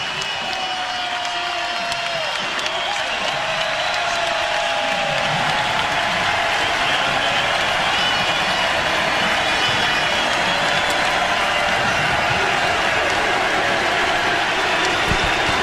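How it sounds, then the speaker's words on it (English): A college basketball crowd rises in a standing ovation for three seniors during a Florida Gators home game against Ole Miss, a broad wash of sustained applause and cheering filling the arena, steady and loud for the whole stretch. "Elijah Morton, a well-deserved standing O."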